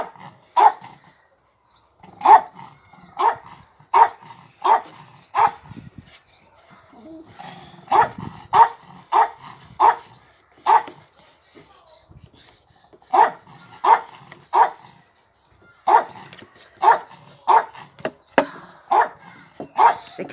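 A dog barks repeatedly in sharp bursts, some in quick runs and some spaced apart, close and loud, with brief pauses and faint rustling between.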